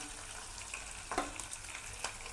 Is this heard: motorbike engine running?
no